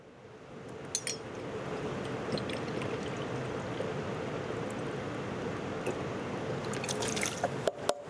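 Rice wine vinegar pours steadily into a pan of meatball sauce ingredients, a continuous liquid stream with a few light clinks of a bottle or measuring cup near the start and end.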